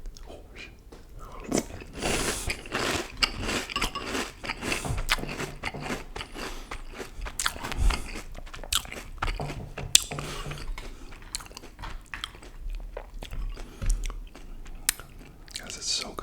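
Crunchy cereal is eaten right at the mouth, with dense repeated crunching and chewing bites that are loud and close, and soft murmured talk appears at moments.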